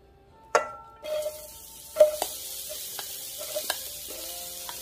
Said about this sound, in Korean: 여기에 먼저 파를 넣고요. 파기름을 넣을 건데요.